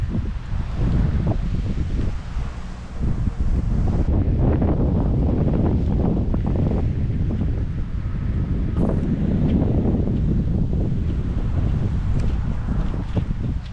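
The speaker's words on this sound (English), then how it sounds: "it's actually so windy and cold out here" Strong, cold wind buffets the microphone outdoors at a truck camping spot in the rain, a loud continuous rumble with gusting surges and rustling throughout.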